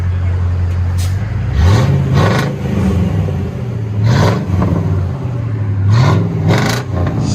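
A Chevy Caprice 5.7L V8 on straight pipes idles with a deep, loud rumble and is blipped repeatedly, each rev rising sharply and falling back in a rhythmic pattern close to the listener.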